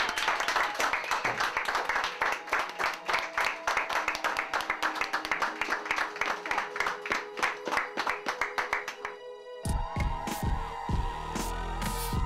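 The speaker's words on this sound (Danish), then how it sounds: "Hende skal I også huske at klappe for." An audience claps steadily and warmly for an actress after her last scene on a film set, dense applause lasting several seconds before breaking off into scattered handling noises and clatter.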